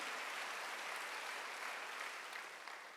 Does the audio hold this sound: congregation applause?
yes